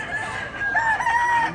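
A gamecock crows once, a drawn-out call heard fairly clearly over a noisy outdoor background.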